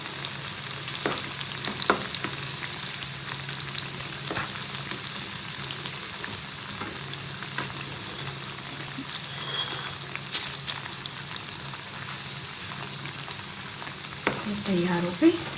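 Shakkar paray dough pieces deep-frying in oil in a pan, a continuous bubbling sizzle with occasional stirring scrapes and light knocks, close and even throughout.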